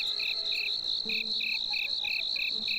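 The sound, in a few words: crickets chirping in video game Scroll of Taiwu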